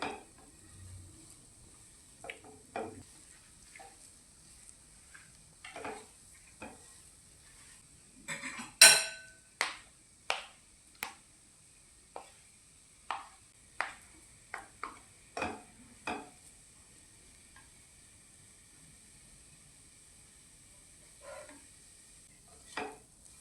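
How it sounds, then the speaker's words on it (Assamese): Coconut and jaggery mixture roasting in a kadai over a gas flame, stirred with a spoon: a steady run of sharp metallic scrapes and clinks against the pan, fairly close and spaced irregularly, with a faint sizzle underneath and no voices. "নাৰিকল আৰু গুড়ৰ এই মিশ্ৰণখিনি ভজা হৈছে"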